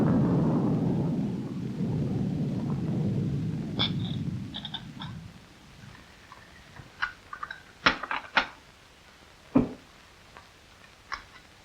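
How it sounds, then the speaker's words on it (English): Rain and thunder outside a house at night, with a low steady rumble and rain wash in the first half, then sharp, irregular cracks and ticks close by, like drops or thunder claps, in quieter air. "The rain ought to let up soon."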